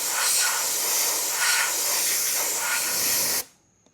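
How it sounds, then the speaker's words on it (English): Airbrush spraying white paint around a stencil edge on a custom RC crawler body, a steady close hiss that lasts several seconds with slight pulses before cutting off abruptly. "we're going to take some white and just blow around the edge just ever so slightly on the front and the back"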